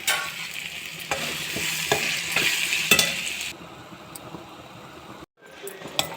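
Stuffed okra (lady's finger) frying in a pan with turmeric powder, stirred by a utensil; steady sizzle with scraping strokes and clicks, quieter toward the end after a brief gap, with faint talk in the background.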